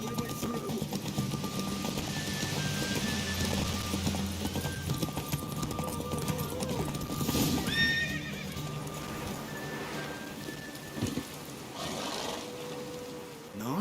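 Galloping hooves clip-clop rapidly under a horse's neighs and whinnies during a horse race in the video game The Witcher 3, with a rolling musical backdrop and occasional chimes, loud and continuous.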